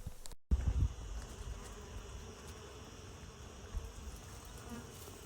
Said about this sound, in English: Can you hear the hum of the bees?